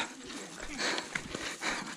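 Heavy, breathy panting from a hiker carrying a load while walking along a river toward Talon Eva Falls, close and continuous over rushing outdoor noise, with irregular breaths rising and falling.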